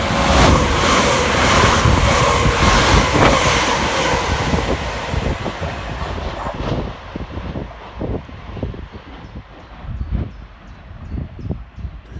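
A pair of West Midlands Railway Class 730 electric units, 730.013 and 730.023, speed through Barnt Green station with a loud rushing roar, then fade into a series of rhythmic wheel clicks over rail joints.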